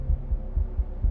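Fast heartbeat in the Banebush game, low thumping pulses in quick, even succession, about five beats close together with nothing else around them.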